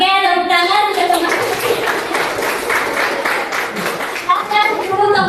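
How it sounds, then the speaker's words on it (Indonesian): A classroom of students claps hands together in a counted rhythm, with bursts of clapping in the middle and a teacher's voice speaking before and after, fairly loud and close. "tepuk tiga, tepuk dua, tepuk satu, dua. Oke, tepuk tangan sudah sama."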